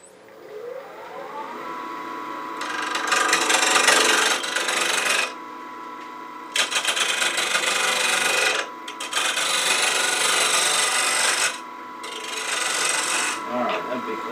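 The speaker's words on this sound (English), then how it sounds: "I'll just come in from each side using a little 3/8 inch bowl gouge" A 3/8 inch bowl gouge trues up the edges of a spinning wooden bowl on a lathe, making loud rasping cutting bursts between spells of the lathe's steady hum and whine, close by and with no talk.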